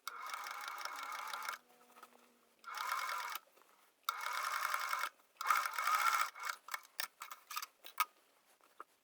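Close sewing machine stitching around the curve of a flat cap piece, running in several short bursts separated by brief silences, ending in quick stop-start pulses.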